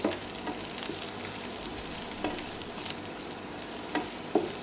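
Eggplant, egg and tomato frying in a pan, giving a steady soft sizzle with a few light stirring scrapes and taps spread through.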